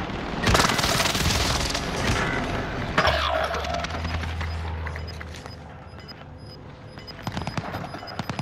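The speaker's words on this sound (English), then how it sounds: "Enemy airstrike" Enemy airstrike in the Warzone video game: a loud burst of heavy booming explosions and crackling debris, then a rumbling blast that fades into scattered distant thuds and crackles.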